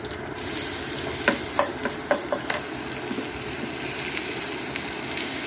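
Ground coriander paste sizzles in hot sesame oil with mustard seeds and urad dal, a steady, close frying hiss broken by a few sharp spoon scrapes and stirring clicks, with nobody talking.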